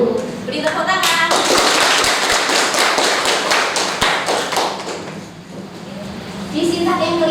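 Classroom clapping from students during a teacher's practice lesson, a dense burst of hand claps with sharp taps, lasting several seconds before fading, with voices in the room.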